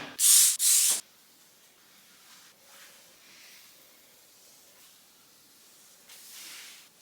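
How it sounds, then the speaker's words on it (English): Two loud, close bursts of a spray bottle misting kitchen surfaces, followed by quieter rubbing and wiping, then a softer spray-like hiss near the end. "I'm just going to continue spraying and wiping on all of the other surfaces throughout the"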